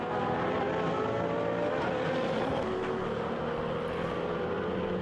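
Race cars roar past at the 2013 European Le Mans Series, including the Alpine Nissan and Zytec Nissan prototypes, as a dense, loud, continuous engine drone with shifting tones and no voices over it.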